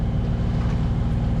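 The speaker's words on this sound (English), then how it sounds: "We had to put the engine on earlier because the wind absolutely died out. We've used what there was, it seems, and we're just now motoring around" A sailboat motors along under engine power in very light wind, a steady low droning engine hum running continuously beneath faint wind and water noise.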